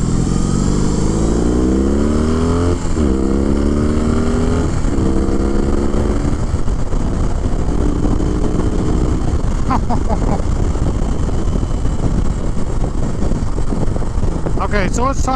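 2021 BMW R 18 cruiser with its 1800 cc boxer engine while riding, a loud close rumble with rising and falling revs through gear changes, wind buffeting heavily, and a voice talking over it.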